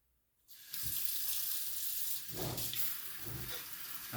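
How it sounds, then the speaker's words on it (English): A kitchen sink tap switches on and runs steadily to wash strawberries, giving a continuous close hiss of water whose tone shifts slightly as the stream hits the fruit and basin. "We're going to wash up these strawberries real quick."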